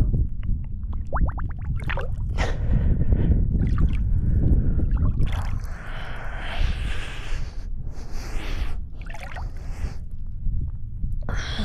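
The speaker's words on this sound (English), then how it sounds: "I'm just gonna paddle out onto the lake." Paddling a small boat out onto a mountain lake, with low rumbling water and hull sounds, irregular splashes and paddle strokes close by.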